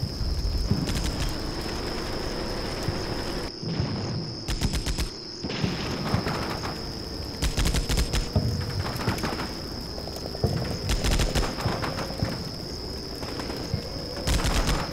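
A tank and infantry trade fire in Combat Mission Shock Force, with repeated bursts of gunfire and heavier cracks spread across the clip over a constant high insect-like whine.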